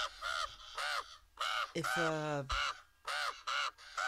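Crows caw repeatedly in the video game Fall, a steady run of short harsh calls in pairs, with one longer drawn-out squawk in the middle, while a person speaks briefly.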